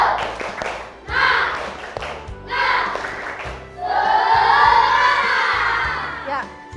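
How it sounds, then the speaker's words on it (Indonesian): Classroom of Indonesian fifth-grade children doing a rhythmic spirit clap chant, bursts of patterned clapping and shouted chanting in rounds, ending in sustained loud cheering, close and lively. "tepuk semangat."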